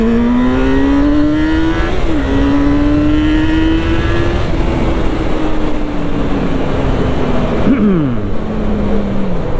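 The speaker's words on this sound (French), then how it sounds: "C'est dingue ce moteur qui en redemande." Loud, close engine of a Yamaha FZ6 motorcycle revving hard toward 9000–10,000 rpm, pitch climbing steadily with brief dips at gear changes and a sharp drop near the end.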